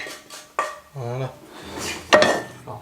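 Plates and cutlery clatter as a family dishwasher is emptied, with a few sharp clinks and a brief ringing knock of dishes set down, close and fairly loud, with no voices.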